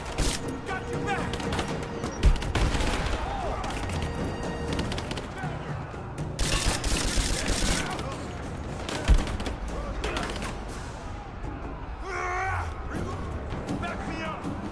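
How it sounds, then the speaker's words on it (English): Bursts of gunfire and sharp impacts crackle through a combat scene in the video game Rise of the Tomb Raider, mixed with shouted voices and dense battle noise. "Gunner, keep firing!"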